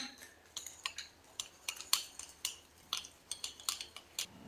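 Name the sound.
mixing aloe vera gel face pack with a spoon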